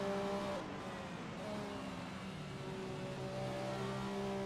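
A race car in a sim racing video game accelerates with a steady, sustained engine whine that climbs gradually over several seconds, loud and constant with no talk.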